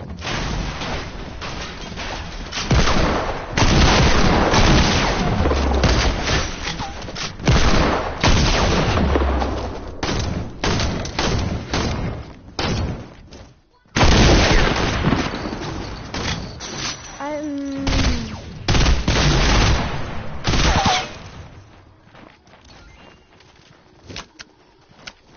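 Rapid gunfire in Fortnite, dense bursts of shots crackling continuously over long stretches, with a brief pause midway and people talking over the action.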